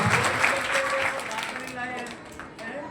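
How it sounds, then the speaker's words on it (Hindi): Applause from an audience at an annual school exam results ceremony, a dense steady clatter of clapping that fades slightly, with voices talking over it. "बड़े ताली इसका बहुत शानदार ताली लगा।"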